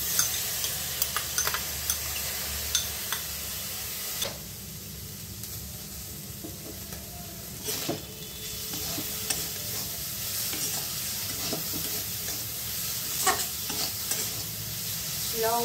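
Chicken keema filling frying with green chillies and coriander, a steady close sizzle with frequent scraping stirs and soft clinks of a spatula, no voices.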